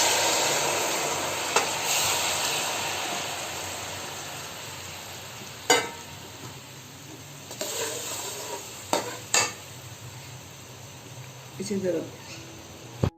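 Jaggery syrup poured into frying spices and stirred, giving a continuous loud sizzle and hiss that slowly fades, broken by a few spoon knocks and scrapes against the pot.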